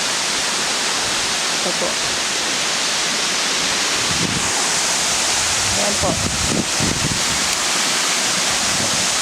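Rushing water of the hidden Gallego Waterfalls in Goa, Camarines Sur, a steady loud broadband roar throughout, with a person speaking briefly over it.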